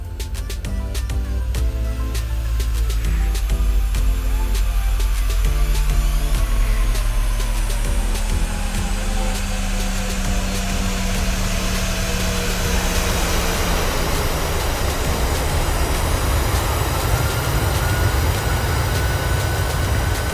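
PMDG 737-800 landing replay in Microsoft Flight Simulator: steady loud jet engine roar with a gradual pitch sweep and rumbling touchdown and rollout, continuous throughout with no talking.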